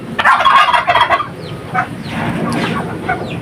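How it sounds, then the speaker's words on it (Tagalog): Turkeys gobbling in a loud burst, followed by scattered clucks and other farmyard fowl calls at close range. "Yan, ang kanyang mga pabo."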